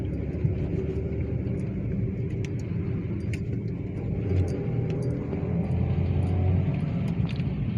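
A Hyundai Accent with a P0748 transmission fault is driven on the road, its engine and tire rumble a steady low drone from inside the cabin, with faint clicks and rattles and no clear gear-change break.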